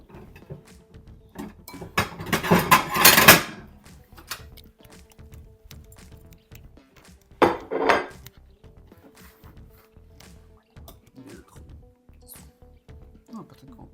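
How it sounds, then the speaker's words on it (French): A plate is lifted out and set down with a clatter of dishes and cutlery, loud and busy for a couple of seconds, then a second shorter clink; a voice talks in between. "Elle va sortir une belle assiette pour qu'on puisse mettre ça dedans."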